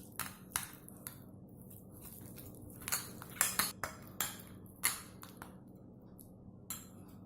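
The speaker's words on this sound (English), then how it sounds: "Give it all a thorough mix." Cauliflower being mixed with yogurt, spices and green chilies in a bowl, with sharp metallic clinks and taps of a utensil against the bowl at an irregular pace, quiet and close, without talk.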